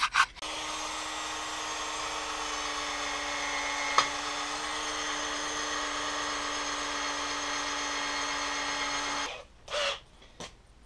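A step drill bit cutting through a metal plate in a vehicle build, a steady high whining grind lasting about nine seconds with a brief click partway, then it stops and a few short scrapes follow.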